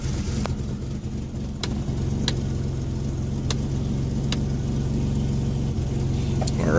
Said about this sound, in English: I'm going to test it by turning on the car